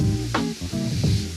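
Ground meat for a keto shepherd's pie browning in a hot pan, a close steady sizzle with a few brief scraping bursts over it and no talking.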